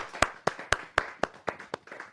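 Audience at a Hindi kavi sammelan poetry gathering clapping in a sparse, steady rhythm of about eight distinct claps, each sharp and evenly spaced, fairly near and moderately loud with no talk.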